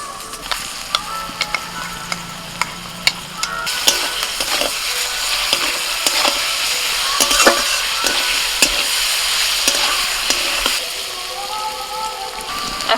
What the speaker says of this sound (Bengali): পেঁয়াজ আর ক্যাপসিকাম একদম হালকা ভাজা হলে এর মধ্যে ম্যারিনেশন করা পনিরটা দিয়ে দিচ্ছি।